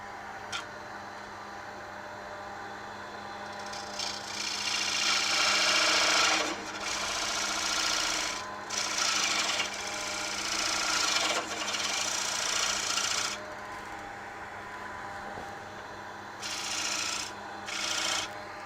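A smaller gouge cuts into spinning wood on a lathe, a sustained scraping, hissing rasp that swells and eases in several long passes, close and fairly loud, with a low motor hum underneath.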